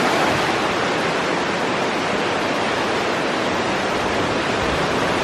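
Golden waterfall at Greenbank Park, with water rushing down steadily and loudly, a dense roar that stays even from start to finish and carries no voices.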